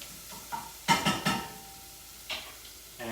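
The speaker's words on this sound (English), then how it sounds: "I'm going to give this a little bit of a stir" A spoon stirs pasta sugo in a pot, giving a few soft scraping clinks in a short cluster, then another light scrape, all close and fairly quiet with a faint sizzle underneath.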